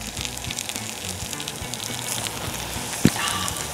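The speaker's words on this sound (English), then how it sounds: "I want you to really hear this sizzle because this is the magic." Chicken frying in a hot pan, a steady crackling sizzle with a dense hiss throughout and one sharper pop near the end.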